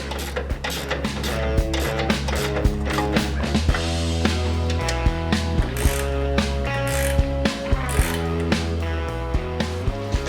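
A ratchet tightens the shock absorber nut on a Land Rover 127/130 under restoration, a loud, close and steady run of rapid clicking strokes that keeps going throughout.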